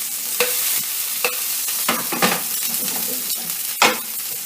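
Food simmers and sizzles in a pan while a wooden spatula stirs and scrapes it in several distinct strokes, close and fairly loud, with no talk.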